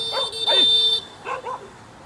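Street dogs in Bangkok barking near a sidewalk, several short close barks in quick succession followed by two softer yips, loud against a quiet background.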